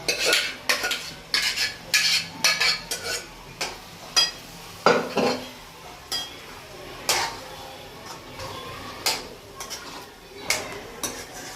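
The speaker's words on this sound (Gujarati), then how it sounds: "જો આપણે હવે સરસ મજાનું મિક્સ કરી લઈશું અને પછી આપણી ખીચડી રેડી થઈ જશે" A spoon stirs spinach khichdi in a pot, scraping and clinking against the metal in irregular bursts. The stirring is close and loud, with short pauses, and there is no speech.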